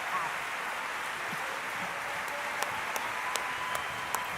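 Audience applause at an environmental prize award ceremony, heard as a soft, distant wash of clapping with a few sharper individual claps standing out near the end, while a voice speaks faintly underneath.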